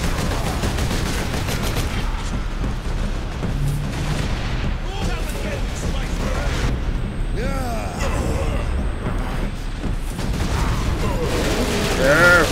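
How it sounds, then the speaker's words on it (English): Warhammer 40k Space Marine combat rages on the battlements, with a dense run of booming explosions and rapid gunfire, an incoming missile blast among them, as a voice talks over the din throughout. "Whoa, incoming missile."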